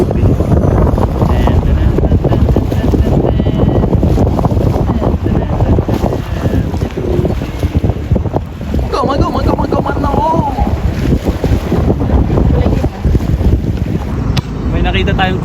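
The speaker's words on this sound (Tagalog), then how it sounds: "padating na yung bangka ni Luffy" A boat motor drones steadily over water off Corfu, Greece, amid strong wind buffeting the microphone, with a voice talking briefly partway through.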